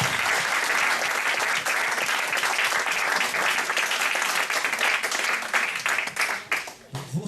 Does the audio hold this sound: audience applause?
yes